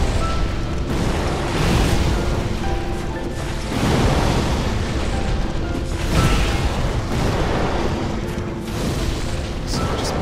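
Heavy fiery explosions boom again and again as fire rains down on Gwyn in a Dark Souls boss fight. The dense, loud blasts keep coming with almost no break, layered over game music.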